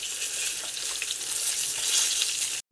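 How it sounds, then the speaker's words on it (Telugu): Masala paste for stuffed brinjal curry sizzles in the oil the brinjals were fried in, a steady close crackling hiss that cuts off abruptly at the end. "చూసారా నూనెలో ఎలా ఫ్రై అవుతుందో"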